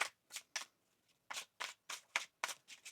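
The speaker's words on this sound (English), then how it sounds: "One more shuffle now." A deck of tarot cards is shuffled by hand in a quiet room. About a dozen short, crisp riffling bursts come close and soft in an uneven rhythm, with no voices.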